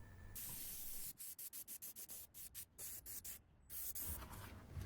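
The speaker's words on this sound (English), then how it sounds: "Now with some high grit sandpaper I want to remove some of the dye" High-grit sandpaper rubs across dyed red, teal and purple leather in quick back-and-forth strokes, a close, steady scratchy rasp that breaks into short rhythmic bursts with no voices.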